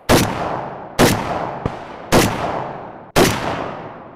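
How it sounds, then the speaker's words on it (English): Four loud, evenly spaced shots from an Arsenal SAM7K-44 AK-pattern rifle on an outdoor range, each a sharp crack with a decaying echo, plus a small click between the second and third. "So we got a few more rounds we're gonna put through the AK here"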